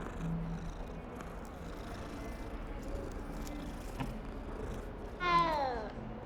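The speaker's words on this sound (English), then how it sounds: "Oh, a little Siamese cat." Siamese cat in the game Hogwarts Legacy gives a clear, drawn-out meow near the end. Before it comes a long stretch of soft ambient background with a faint low purr.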